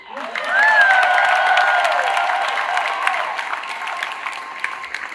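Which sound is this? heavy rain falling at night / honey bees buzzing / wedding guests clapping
wedding guests clapping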